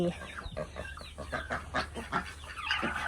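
Laying hen, a layer crossed with native village chickens, clucking in a series of short, irregular calls close by, with no talk.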